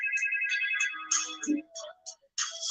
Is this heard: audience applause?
no